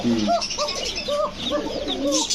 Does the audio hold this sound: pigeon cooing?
yes